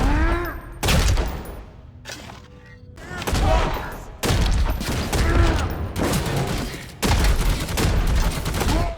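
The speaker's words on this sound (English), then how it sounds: "The Stub Cannon was a surprise find, like a stub gun on steroids" A heavy Stub Cannon fires in Necromunda: Hired Gun, a shooter game: loud booming blasts come one after another with short gaps between them, and each leaves a rumbling tail under scattered game effects.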